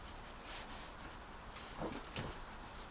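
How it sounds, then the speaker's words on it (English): Compost is sieved by hand in a cold greenhouse to remove big bits, a steady soft rubbing and crumbling rustle that runs throughout, close and quiet, with a couple of slightly louder gritty scrapes near the end. "I'm just giving a little bit of a sieve through my hands. Get rid of all of the big bits."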